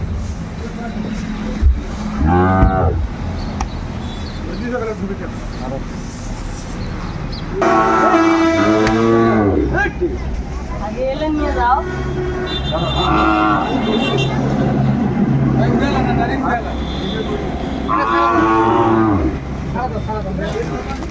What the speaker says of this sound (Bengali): সবে সেরা মানের গরুগুলো কালেকশন করছে মোমেন ভাই